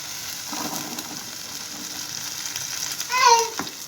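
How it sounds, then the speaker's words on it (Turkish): Red kidney beans fry in a pot with a steady, close hiss, while stirring clatters throughout and a louder scrape stands out near the end. "Barbunyamı ekledim şekilde biraz kavuruyorum kapağını kapatıp."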